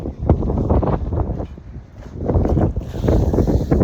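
Wind buffets a microphone outdoors at a brick cleaning site, with loud, gusty low rumbling that swells and eases irregularly, close and alone without talk.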